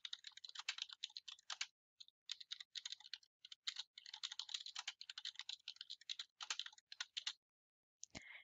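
Quiet, rapid clicking of a computer keyboard as a title is typed, bursts of keystrokes broken by short pauses, with a single louder click near the end and no voices.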